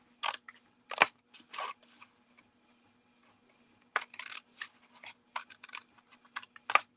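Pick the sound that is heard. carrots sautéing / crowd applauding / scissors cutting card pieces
scissors cutting card pieces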